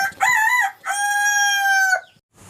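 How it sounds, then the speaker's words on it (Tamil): A rooster crows loudly and close, one long drawn-out call with a short lead-in, then breaks off. "கோழி கூவும்."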